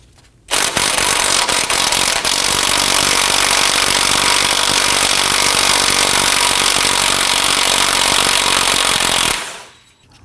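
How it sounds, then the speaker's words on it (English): An 18mm socket on a power tool loosens a nut during steering rack boot work on a 2015-2024 Nissan Murano, giving one loud, harsh, continuous burst of about nine seconds that then cuts off. "Using an 18mm socket, loosen the nut."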